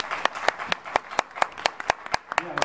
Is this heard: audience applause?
yes